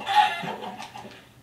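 A chicken gives a short, close cluck in a multiplayer fishing video game, a single brief call that trails into faint background sound, with no speech.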